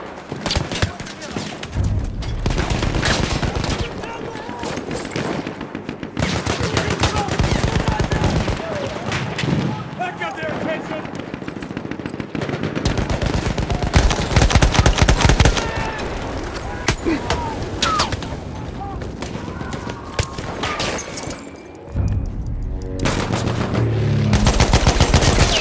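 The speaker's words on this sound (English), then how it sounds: "Enemy machine gun over there!" Machine gun fire in Battlefield 1 multiplayer Conquest: loud, rapid bursts of automatic shots repeat throughout, mixed with scattered gunshots and battlefield noise, with voices shouting in between.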